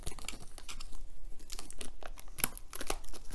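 Clear plastic shrink wrap on a large boxed D&D Art and Arcana special edition being cut open, giving close, crisp crinkling and tearing bursts in an irregular rhythm with no talk.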